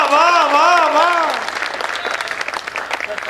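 Audience at a Hindi kavi sammelan poetry recital breaks into loud, sustained applause, the clapping swelling after a sung or intoned voice fades out in the opening second and a half.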